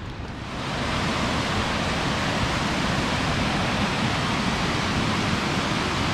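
A steady, dense roar of falling water from Kinlock Falls in Bankhead National Forest fades in and then holds constant, loud and close.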